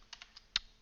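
A few quick keystrokes on a computer keyboard, four light clicks in under a second with the last one slightly louder, close and quiet with no talking.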